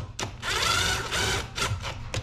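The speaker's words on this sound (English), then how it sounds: "Then we take our handy dandy drill." A power drill whirs in two short, close bursts with brief pauses between, the motor pitch rising and falling.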